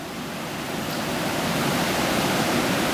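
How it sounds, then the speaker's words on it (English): A river flowing very close by in a jungle village, a steady loud rushing hiss of water that swells slightly and continues without pause, with no voices over it. "You may hear the river. The river is right in front of me, actually very close."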